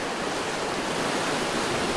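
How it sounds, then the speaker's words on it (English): Whitewater rapids rushing above a waterfall on a river paddling trip, a steady loud broadband roar of churning water filling the whole clip with no voices. "Eddying out above a waterfall is always exciting."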